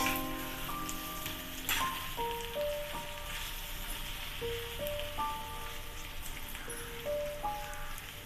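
Sweet potato slices frying in a pan, a steady crackling sizzle like light rain throughout, with faint clinks and tones over it and no talking.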